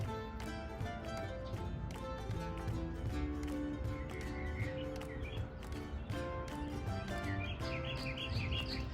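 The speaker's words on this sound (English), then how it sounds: "here comes our mockingbirds that are fighting and carrying on" Mockingbirds call and squabble outdoors, quick chirps and short bursts of song repeating over a busy background of other sounds.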